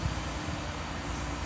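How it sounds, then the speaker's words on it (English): A large six-foot drone flies near a water tower, giving a steady, continuous broadband whir with low engine-like hum and no clear talk. "That's a big drone. That's a 6-foot drone."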